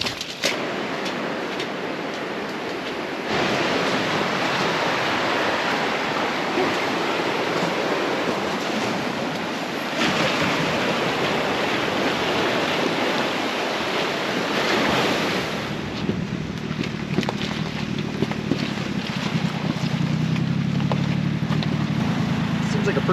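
Ocean surf washing onto a beach at low tide: a continuous, loud roar of breaking waves mixed with heavy wind buffeting the microphone, steady throughout with a deeper rumble near the end.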